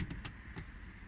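The boot lid of a 2020 Hyundai Ioniq closing, a short series of muffled thumps and clicks close by within about a second, over a low steady rumble.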